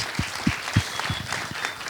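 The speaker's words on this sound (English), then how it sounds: "let's give that a round of applause" Audience clapping after a film Q&A at a documentary festival, a scattered, moderately quiet round with distinct individual claps and some low thumps, no speech on top.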